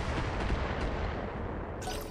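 Mechs trade multiple weapon shots in the BattleTech video game, a dense, rumbling barrage of booming fire that roars continuously, loud and close, with a brighter burst near the end.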